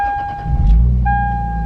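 A Lexus IS300 started with the key: a deep engine rumble swells up and settles into a low idle, with steady electronic warning chimes ringing over it, no talking.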